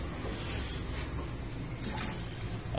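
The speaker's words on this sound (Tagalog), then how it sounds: "Buksan din natin yung gripo." Water runs from a faucet inside a mobile van, a soft, steady hiss of flow with no talk over it.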